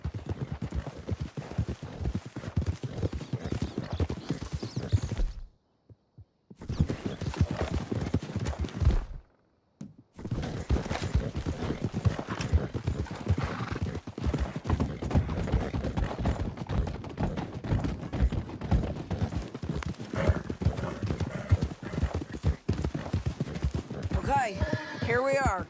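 Rapid clip-clop of horse hooves galloping almost continuously in Red Dead Redemption 2, with a couple of brief silent gaps and occasional whinnies and voices mixed in.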